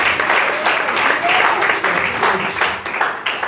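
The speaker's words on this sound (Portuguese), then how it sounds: "Você dá uma linda salva de palmas para Jesus" A church congregation claps during a service, a busy, fairly loud wash of many hands with some voices mixed in, fading slightly toward the end.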